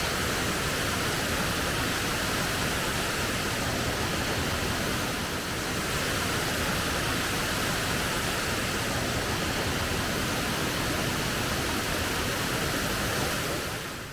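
Roaring rush of the waterfall at Tanyard Falls, a dense, loud, unbroken wash of falling water heard up close for a long stretch, no voices.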